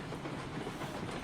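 A train runs in the railroad simulation game Railroads Online, a steady, close rolling rumble with a dense clatter of wheels on track, continuous and without talking.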